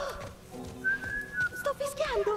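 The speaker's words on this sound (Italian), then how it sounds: "Sto fischiando." A character in The Last of Us Part 1 whistles a short, wavering tune, rising and sliding notes in quick phrases, close and clear over faint game ambience.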